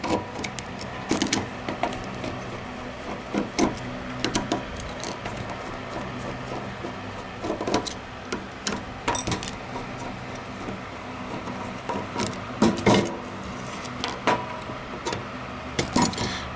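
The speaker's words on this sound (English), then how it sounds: "Might as well go all the way and flip this bolt around." The bolt of an Astra short brass mortice lock is flipped around, giving a string of sharp metallic clicks, taps and light rattles at close range in an uneven rhythm.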